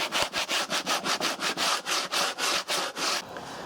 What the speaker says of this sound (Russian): Обрабатываем шкуркой и вторую поверхность.